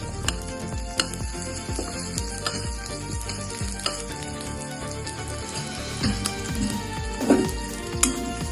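Onion hitting a hot pan for paneer chilli gravy, a steady crackling sizzle with spoon clinks and stirring scrapes throughout, swelling louder near the end.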